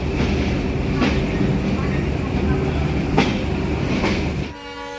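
A broad-gauge intercity express rumbles through Rajshahi railway station, a steady loud roar of wheels and carriages with a couple of sharp accents and a horn-like tone, fading slightly at the very end.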